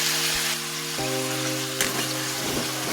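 Chicken with ginger garlic paste sizzles steadily in a hot pan under a constant low mechanical hum, with a brief stir or clatter partway through.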